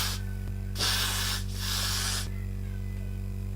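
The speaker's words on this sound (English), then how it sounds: "I'm going to spray it one more time." Adhesive spray hisses onto a lace wig in two close bursts, each just under a second long with a short pause between, over a steady low electrical hum.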